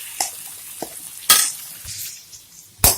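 Goat brain fries in a pan, giving a soft steady sizzle broken by a few sharp clinks and scrapes of a spoon stirring against the pan.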